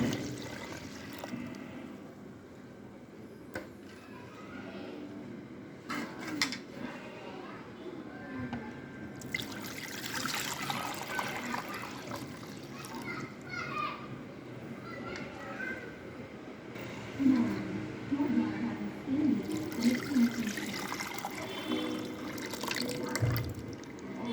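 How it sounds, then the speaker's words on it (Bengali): Sweetened milk mixture for homemade yogurt is poured into a bowl for setting, with soft liquid trickles and drips, a few kitchen clatters, and a voice talking at times alongside. "এখন এই যে বাটিতে সেট করব সে বাটিতে ঢেলে নিচ্ছি।"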